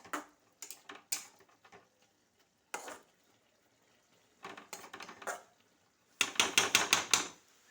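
Boiled pumpkin stirred in a pan for a Bengali small-fish chorchori, a spoon scraping and clinking against the metal in short, bursty strokes separated by brief pauses, closest and busiest near the end.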